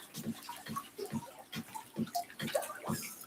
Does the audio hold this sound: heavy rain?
no